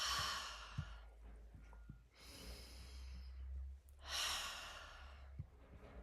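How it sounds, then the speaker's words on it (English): Deep, slow breaths during a calming self-massage practice: two long, soft exhalations drawn close to the microphone, with a few faint taps and a low hum between them. "Couple deep breaths."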